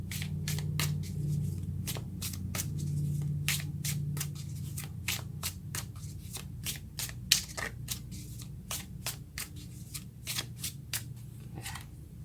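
A tarot deck is shuffled by hand, producing a long run of quick, close card flicks and riffles over a low steady hum.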